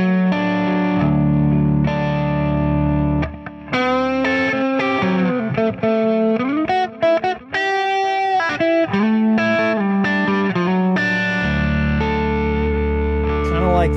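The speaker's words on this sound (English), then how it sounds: "And then here's the neck pickup." Distorted electric guitar on the neck pickup of a C R Alsip guitar, played through effects with chords, bends and quick lead runs, loud and continuous for the whole stretch with no talking.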